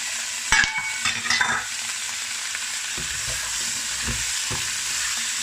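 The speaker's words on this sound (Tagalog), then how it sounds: "Tuloy-tuloy lang ang halo" Tomatoes stirred into beef brisket with carrot in a frying pan: a few sharp utensil knocks early on, then a continuous sizzle with occasional low clunks of the spoon against the pan.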